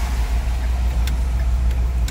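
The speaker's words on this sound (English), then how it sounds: "I'm gonna turn the key off because the car is running" The 6.8 liter engine of a 2011 Ford E Series idles steadily at close range, a constant low rumble with faint clicks above it and no talking.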